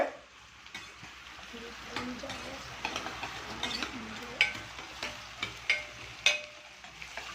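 Gongura leaves and brinjal sautéing in oil, stirred in the pan with a steady sizzle and repeated sharp spatula scrapes and taps that grow louder toward the end.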